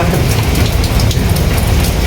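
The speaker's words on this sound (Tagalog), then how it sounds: "malakas na po yung ulan." Heavy, steady typhoon rain pours down in a dense, continuous roar with no voices, loud and close throughout, in Nabunas.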